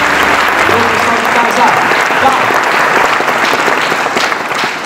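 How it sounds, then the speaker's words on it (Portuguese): A church congregation bursts into loud applause, a thick wash of clapping that carries on for about five seconds, with faint voices blended in underneath. "Vamos aplaudir a Jesus."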